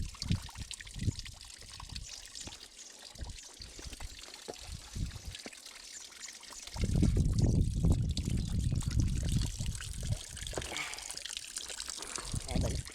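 Drinking water pouring and splashing at an old Templar farm, a steady close gush that swells loud midway, while people talk in French over and around it.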